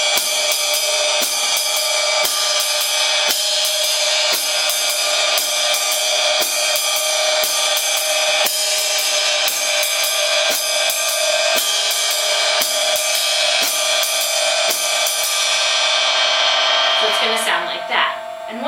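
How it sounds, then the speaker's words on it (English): Jazz swing pattern on a drum kit: a bright, sustained ride cymbal wash with steady, evenly spaced accents and hi-hat chicks on beats two and four, played alone for a long stretch before fading out at the end. "now I'm going to do it with the spang-spang-a-lang rhythm on the ride cymbal and 2 and 4 on the hi-hat"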